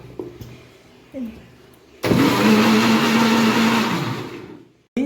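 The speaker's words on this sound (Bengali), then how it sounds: "আবার এটা আমি মিক্সি করে নেব" An electric mixer grinder whirs loudly for about three seconds while blending vanilla ice cream batter, starting abruptly and winding down, preceded by a few clinks and brief handling sounds in a quiet kitchen.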